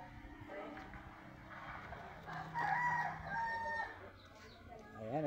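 Backyard chickens at a home: a rooster crows with a rising call in the middle while hens cluck around it, fairly close, with faint background voices.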